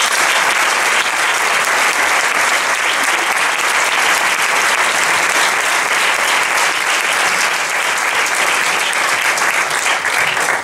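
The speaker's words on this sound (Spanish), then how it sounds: "Otro aplauso," Loud, dense audience applause fills a concert hall at a band's anniversary concert, sustained and even throughout with no talking over it.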